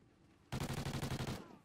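A Vector submachine gun in a video game fires a single rapid burst of about a dozen shots, close and sharp, lasting under a second.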